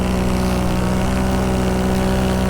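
A small propeller airplane engine in flight, heard from inside the cabin as a loud, constant droning hum with a steady pulsing beat and no voices.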